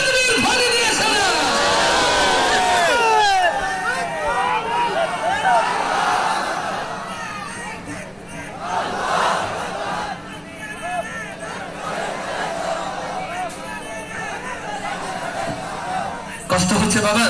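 A large crowd at an outdoor memorial cultural event in Narail shouts takbir together in a loud, surging collective roar, swelling at first and then settling into rolling cheers and babble of many voices.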